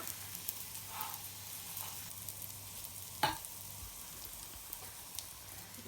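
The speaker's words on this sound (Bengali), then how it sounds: "উল্টায় পাল্টায় ভাজা নিতেছি সুন্দর করে ডিম পরোটা" Quiet, steady sizzling of egg paratha frying in a pan, with a sharp metallic clack partway through and a few soft clinks.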